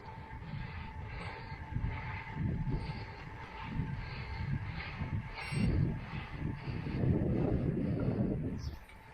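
Gusty wind buffets the microphone while cycling a road loop on a windy February day in Mallorca, a steady low rumbling roar rising and falling in strength throughout, with no talk.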